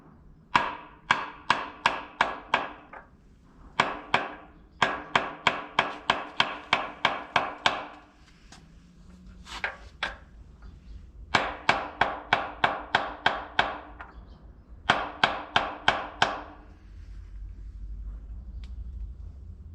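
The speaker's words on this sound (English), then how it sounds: "It's like a hammer, but sideways." A makeshift sideways hammer strikes repeatedly in quick bursts of sharp knocks, several rapid runs of evenly spaced blows separated by short pauses, close and clear, with a low rumble creeping in near the end.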